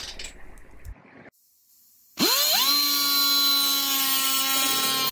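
A high-speed rotary cutting wheel slots the head of a stripped Allen screw on a neglected Suzuki GS750 motorcycle. Brief quiet handling noise and a pause, then the wheel spins up sharply into a loud, steady whine that holds for about three seconds.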